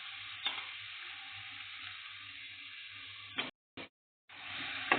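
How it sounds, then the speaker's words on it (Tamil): Brinjal pieces being stirred with masala in a frying pan for kathrika sambar, a steady close sizzle and scraping that cuts out twice briefly near the end before resuming. "எல்லாம் ஒன்றா சேர்த்து கிளறி விட்டுடலாம்."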